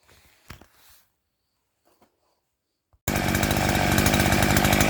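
A Westfalia motor scythe engine drives a water pump drawing muddy ditch water. After a few faint knocks and near-silence, the engine suddenly blasts in, loud, close and steady, with a buzzing chainsaw-like drone.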